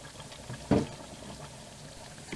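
Chopped pepperoni from a 6-ounce package dumped into a pot for pepperoni chicken, a single short soft thump and rustle near the start, then quiet.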